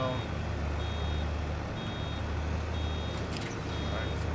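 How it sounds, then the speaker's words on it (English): Warning beeps from a vehicle in Farming Simulator 22 repeat as short, even, high-pitched tones at a steady rhythm, sitting over a loud continuous engine rumble with no talking. "See that you hear the beep. It's letting us know we're getting close."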